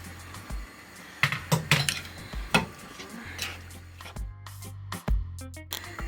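Watermelon peel is tipped from a container into sugar in a pot, giving close, irregular metallic clanks, scrapes and soft clinks spread over several seconds.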